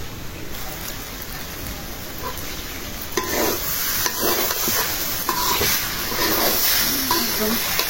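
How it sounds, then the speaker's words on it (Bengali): Water is poured into rice and lentils that have been fried in a pan for goat-meat khichuri. A steady sizzle and stir rises into a louder, splashing hiss partway through, close by, with no talk. "চাল ডালটা কষানো হয়ে গেছে, এখন পানি দিয়ে দেবো।"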